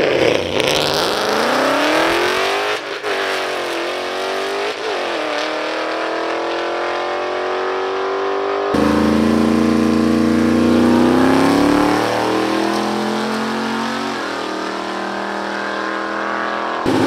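Car engines roar at full throttle in a drag race, rising in pitch through rapid gear changes, then a second loud, close engine screams up through its gears.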